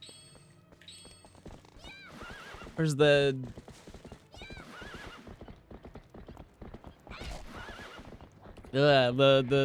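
Epona, the horse in a Zelda game, lets out several loud whinnies and neighs between brisk clip-clop hoofbeats, while a person talks quietly in the middle.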